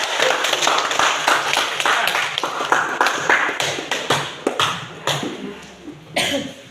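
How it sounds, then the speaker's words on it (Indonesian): An audience claps at the close of a group presentation in a classroom, a fairly loud, uneven run of hand claps that thins out toward the end. "Kita berikan aplaus. Tepuk tangan dulu."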